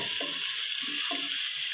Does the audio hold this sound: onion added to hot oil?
yes